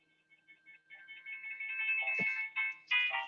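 A mobile phone ringtone going off indoors: an electronic melody of short tones that rises in loudness over about three seconds, nearby and alone without speech.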